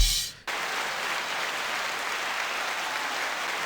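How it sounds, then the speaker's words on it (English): A studio audience breaks into steady, full applause after a brief muffled lead-in, holding an even, dense level to the end on a tools-themed talk show set. "We'll just hold for applause."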